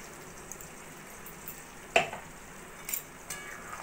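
Chicken and onion paste, for a shahi chicken korma, are stirred in a pan with a soft sizzle, with faint scraping and a few light clinks of a utensil against the pan, close and quiet, without any talking.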